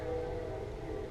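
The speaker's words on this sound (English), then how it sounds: "sorry for the train and the guy in the back mowing grass" A train passes in the background, heard as a steady, continuous low rumble with a faint tonal hum throughout. It sits at a distance and stays fairly even in level, with no talk over it.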